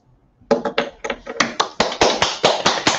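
Audience clapping at the end of a talk on health research in Tromsø: a few scattered claps at first, then rapid, strong, evenly repeated hand claps building into steady close applause.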